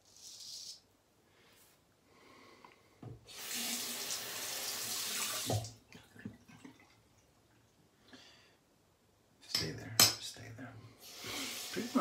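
Tap water gushing into a sink in loud bursts as lather is rinsed off a razor during a wet shave, with sharp metallic clinks of the razor against the basin between runs.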